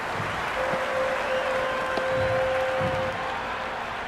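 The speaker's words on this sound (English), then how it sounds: "The crowd are really getting quite raucous." Raucous crowd at a T20 international cricket match between India and New Zealand, a dense, steady roar of cheering and noise filling the stadium with no clear voices standing out.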